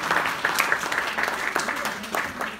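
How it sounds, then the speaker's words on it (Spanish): Audience applause at a César Chávez memorial march gathering, a spread of claps with some voices mixed in, moderately loud and steady throughout. "Un aplauso."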